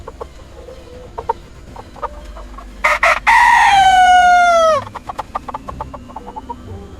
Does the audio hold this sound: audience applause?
no